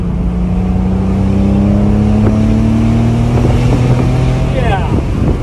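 A Porsche Boxster GTS accelerates briskly along a country road in the evening, its engine note rising steadily in pitch as it revs up, loud and close with wind noise around it.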